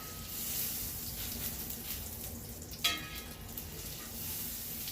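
Butter and bacon frying in a pan for white bacon gravy, a steady soft sizzle throughout with one brief clink of a utensil midway.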